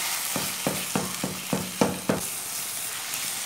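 Saag frying in a pan while it is stirred, a steady sizzle with seven sharp spoon knocks and scrapes in the first two seconds, close up, then plain frying.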